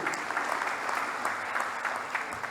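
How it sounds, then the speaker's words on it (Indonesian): Applause from the audience at a university graduation ceremony in Malang, dense continuous clapping that stays level and fills the hall for a couple of seconds, with no talk over it. "Tepuk tangan untuk Unira."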